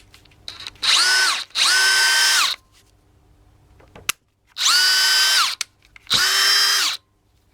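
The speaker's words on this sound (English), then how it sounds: "They kind of sound like they're struggling the first time you pull the trigger when you put fresh grease in." A Dewalt DCD777 cordless drill freshly packed with grease spins up in four loud bursts of about a second each, its motor whine rising then falling, with short clicks and quiet gaps between the runs.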